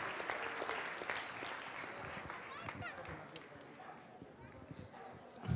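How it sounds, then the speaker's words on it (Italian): Audience applause at an all-breeds dog show final in Messina in 2012, steady clapping throughout with an announcer's voice over the top and a louder burst at the end. "Continuiamo con questo applauso finale"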